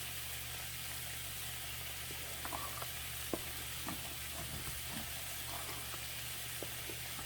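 Butter sizzles and food fries steadily in a pan, a continuous low hiss with occasional stirring scrapes and small pops, close and alone without talk.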